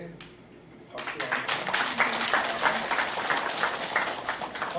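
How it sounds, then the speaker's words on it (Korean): After a second of quiet room tone, a church congregation at a Korean service breaks into lively applause, with many hands clapping in a sustained, moderately loud wash until the end. "방송실에 있는 분도 박수 쳤습니다."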